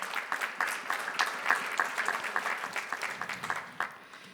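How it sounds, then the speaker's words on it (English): Applause from a conference audience at a diversity award session, a fairly faint, steady patter of many hands clapping with no talk over it. "give them a round of applause"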